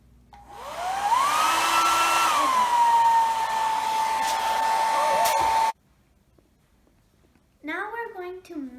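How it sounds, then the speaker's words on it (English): A blow dryer on its hottest setting melts crayon shavings with a loud, steady, whining roar that runs for several seconds and then cuts off abruptly. After a moment of near silence, a voice is briefly heard. "Now we're going to melt the crayon shavings with the blow dryer."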